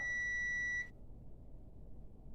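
Continuity tester beeping while probing a diode on a Toshiba TV circuit board, a steady high electronic tone held for under a second before cutting off, followed by quiet room noise.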